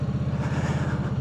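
A KOVE 625V Lancer cruiser motorcycle with an aluminum frame, ridden and shifting up into second gear, gives a steady, close, low pulsing engine throb with an even rhythm and no talk over it.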